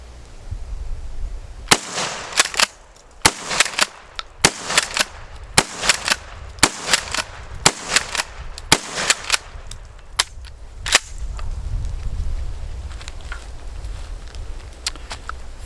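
A Mossberg 590 Thunder Ranch shotgun fired in a series of about ten sharp, loud blasts at irregular intervals, each with a short echo tail, followed by a quieter stretch of outdoor rumble.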